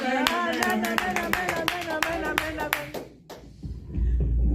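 A church congregation claps loudly in a fast, steady rhythm with scattered cheering voices, the applause dying away near the end before a brief swell of noise returns.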